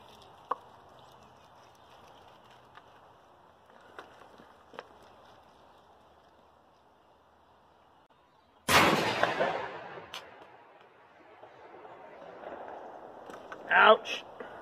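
A 3.5-inch 12 gauge shotgun fires one sudden, loud blast that booms and rings out in open air, preceded by faint clicks and followed by a second burst of noise shortly after.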